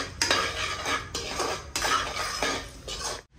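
A spoon stirring peanut dabeli filling in a metal pan, with several scraping, clattering strokes close up and brief pauses between them.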